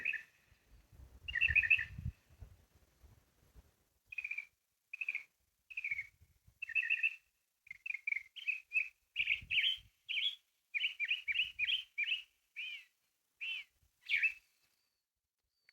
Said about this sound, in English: Bird landed right on top of that rock.